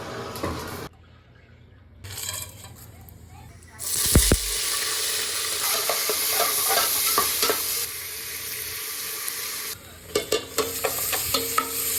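Ginger and garlic fry in a pan for dal gosht, giving a steady close sizzle with stirring rustles, a brief quiet stretch early on, and a run of sharp spoon knocks near the end.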